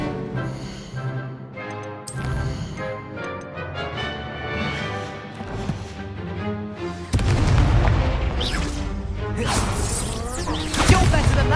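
Booming fiery blasts from the Confringo spell in Hogwarts Legacy burst through a busy game soundtrack, with a heavy crash around the middle followed by dense rumbling and crackling; a voice is heard casting the spell.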